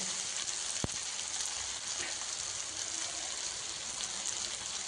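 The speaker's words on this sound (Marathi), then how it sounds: "आपलं हे मटेरियल छान फ्राय झालेलं आहे लालसर फ्राय झालेलं आहे" Upma ingredients frying in a pan before semolina goes in, a steady close sizzle that holds loud and even throughout with one faint tap.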